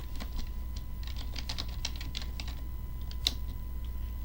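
Rapid, uneven keystrokes on a computer keyboard while entering a database query, steady clicking bursts close by over a low background hum.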